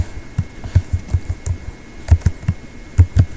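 Keys tapped on a computer keyboard in uneven bursts of close, soft clicks and thumps, with short pauses between groups, over a faint steady hum.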